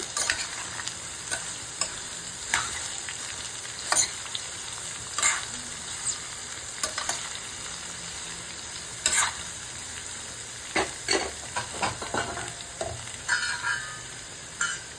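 Chopped bottle gourd frying in a pan with cumin and dried red chillies, a soft steady sizzle under repeated irregular stirring clatters and scrapes of a spoon against the pan, with no voices.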